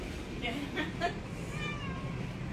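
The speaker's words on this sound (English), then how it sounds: "Mandy, did you see these kittens?" Several kittens in a cattery kitten room give short, high mewing calls in a quick run, then a longer wavering meow, with soft room noise and chatter in the background.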